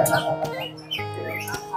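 A cucak ijo, or green leafbird, sings at a songbird contest with a short run of bright, warbling chirps and whistled notes, close and clear against a murmur of crowd noise.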